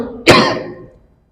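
A single close, loud cough from a man who has a cold, bursting out suddenly and then trailing off into silence within a second.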